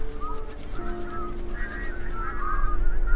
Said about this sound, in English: The bar-headed geese occupy the shallow waters in the heart of the grassland.